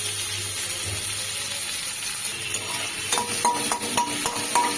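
Chopped onion fries in leftover hilsa-frying oil with a soft, steady sizzle, joined halfway through by sharper stirring scrapes and taps against the pan.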